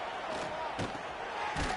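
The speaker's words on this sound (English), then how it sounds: "how nice is it to have the home crowd going absolutely bananas?" A home crowd roars at an American football game, a dense, loud wall of cheering and yelling from the stands. It swells and pulses briefly but never drops away, with no single voice standing out.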